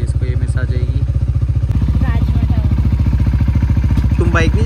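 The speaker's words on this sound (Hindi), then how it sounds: "बाइक अपनी यहाँ पे लगी, इसको करते हैं कोल्ड स्टार्ट" A motorcycle is cold-started in Uttarakhand and settles into a loud, close, steady idle with an even rapid thump throughout, while voices talk over the engine.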